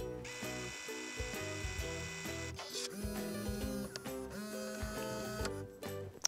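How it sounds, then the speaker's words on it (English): A Brother Design 'n' Craft printer prints a photo, its mechanism producing a busy sequence of close whirring motor tones, stepping buzzes and ticks that shift pitch in short bursts, with a sharp click at the end. "we press approve and I press print"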